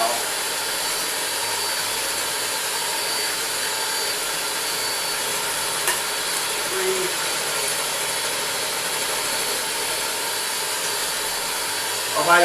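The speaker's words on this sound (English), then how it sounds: "we're going to beat them a bit between each egg just to kind of get it all mixed in there well" Eggs are beaten into a mixture with an electric mixer, a steady whirring drone running without pause, fairly loud and close.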